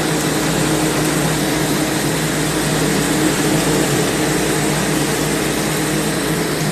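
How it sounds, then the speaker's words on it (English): A heavy-duty commercial dehumidifier motor, set up to dry a flooded apartment, runs with a steady, loud, unbroken broadband roar and hum throughout, with no other sounds. "It's a heavy duty motor. Very heavy duty."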